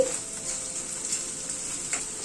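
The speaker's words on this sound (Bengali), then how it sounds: "আদাটা দিয়ে আবার একটুখানি নাড়াচাড়া করে নিচ্ছি" Ginger paste being stirred as it fries in a pan, a steady soft sizzle with faint scraping of the spoon, close and alone.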